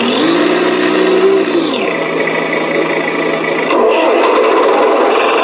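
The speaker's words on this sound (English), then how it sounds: "Now we're back to the three diesel sounds." Simulated RC car diesel engine sounds from a small sound-set speaker, a loud buzzy electronic motor tone that revs up, drops to a lower idle and then shifts again, steady and close with no voices.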